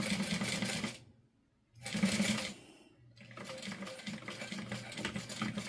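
A sewing machine back stitching a fabric wallet runs in two short bursts of rapid needle clatter, then goes quiet, then starts a longer steady run, close and clear.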